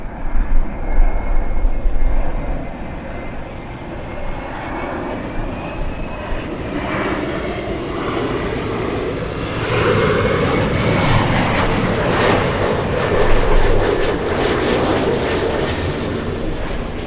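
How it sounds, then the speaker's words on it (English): SkyWest flight 6212, an airliner arriving at LAX from Austin, Texas, passes with a loud, sustained engine roar that swells and hangs overhead, with no talk. "SkyWest 6212 flying in from Austin, Texas, a 3-hour flight."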